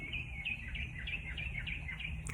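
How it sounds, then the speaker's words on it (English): A bird sings in the early morning, repeating a short bright chirping phrase over and over at a steady pace, faint and somewhat distant above a low background rumble. "there is a bird just singing, happy, singing away."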